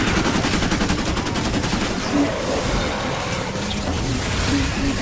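Rapid, sustained gunfire from a weapon in a video game, dense bursts of shots rattling steadily throughout at close range with no talk over it.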